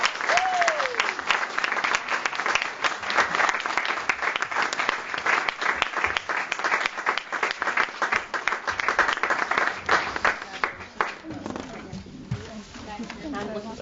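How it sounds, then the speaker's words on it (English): Audience applause at a live awards celebration, a dense crowd clapping steadily for about eleven seconds before thinning out into scattered claps, with a voice briefly heard near the start. "So if we give them a clap, do you want to come and get the prize?"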